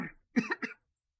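A person coughs, one short burst and then two quick hacking coughs close together, near and fairly loud, followed by silence.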